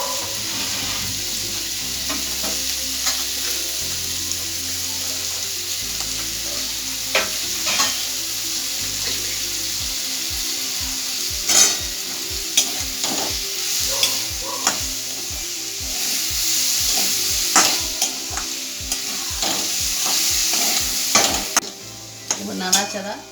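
Potatoes and kachkola peel fry with bay leaves in a pan, stirred with a spoon: steady sizzle under rhythmic scraping knocks that grow busier and louder in the second half, close and alone.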